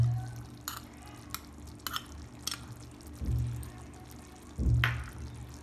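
Ground peanut powder tipped into a simmering Maharashtrian panchamrut in a pot, with a couple of soft pours followed by brief, close scraping stirs of the thick mixture.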